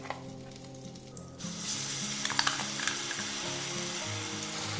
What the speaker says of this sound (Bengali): এবার আমি এখানে একটা বড় সাইজের পেঁয়াজ কেটে নিয়েছি এটা দিয়ে দিচ্ছি